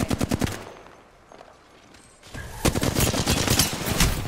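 Rapid automatic gunfire in Apex Legends, loud bursts at the start, a quieter lull, then a long sustained volley of close shots.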